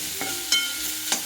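Coconut and flour mixture for uppu urundai being stirred in a pot, giving a few soft scraping strokes with faint sizzling underneath, close and fairly quiet, with no talking.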